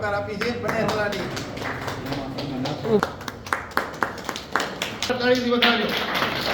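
Villagers applaud to welcome a new police sub-inspector at an honouring ceremony, with scattered and irregular clapping under a speaker's continuous voice and a few sharper isolated claps.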